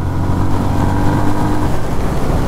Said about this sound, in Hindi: The exhaust sound is really nice.